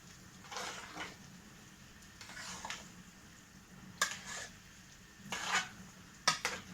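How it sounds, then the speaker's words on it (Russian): Ingredients for a cucumber pickle-soup (rassolnik) preserve with vinegar are stirred thoroughly in a pot, giving several scraping, clinking strokes of utensil against metal at uneven intervals, fairly quiet and close, with no talking. "Все хорошенько, тщательно перемешиваю."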